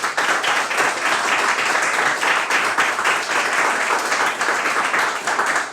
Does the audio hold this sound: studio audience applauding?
yes